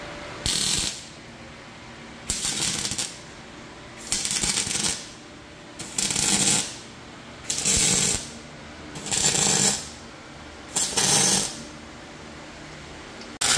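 Sheet metal in a VW Gol engine bay being welded in seven separate bursts of roughly a second each, crackling sharp and close, with short quiet gaps between the evenly spaced pulses and no one talking.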